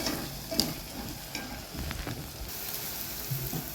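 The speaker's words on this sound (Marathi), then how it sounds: "एखादा मिनिट याला आणखीन परतू देणार आहे मी" Drumstick pod curry masala sautéing in a pan, with a soft, steady sizzle and occasional scrapes and clinks from stirring, close by and fairly quiet, no talking.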